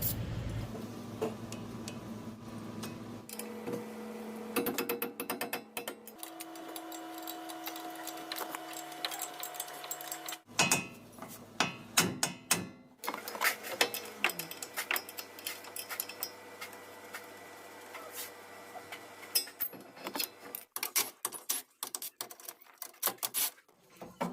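Metal work on a Toyota Tacoma steering knuckle to free a ball joint pin: a long run of clicking, tapping and clanking, with steady tool hums in stretches, all close and without talk.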